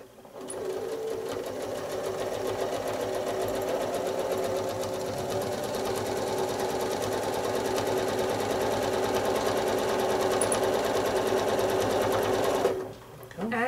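Sewing machine running steadily while free-motion quilting a figure-eight pattern on a beginner nine-patch quilt, a continuous close whir with a low voice briefly underneath, stopping abruptly near the end.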